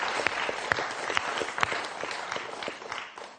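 Studio audience applauding on a French television quiz show, a steady dense patter of clapping with a few sharper claps standing out, fairly close and continuous.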